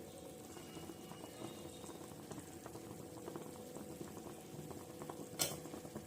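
A pot of tamarind sambar simmers toward a boil with a soft, continuous bubbling and faint popping, fairly quiet and steady throughout.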